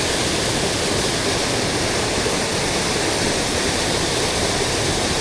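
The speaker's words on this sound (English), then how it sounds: "This is just the water they diverted for the powerhouse." Diverted river water rushing toward an old mill powerhouse beside a covered bridge, a steady, dense roar like a small waterfall, close and unbroken throughout.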